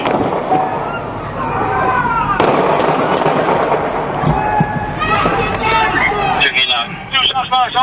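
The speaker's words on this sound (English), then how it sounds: "Shots fired." Police opening fire on a knife-wielding suspect outdoors, loud sharp bangs mixed into a chaotic wash of crowd noise, shouting voices and commotion, with people talking over it.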